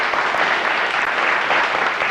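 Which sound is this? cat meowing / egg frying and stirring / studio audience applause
studio audience applause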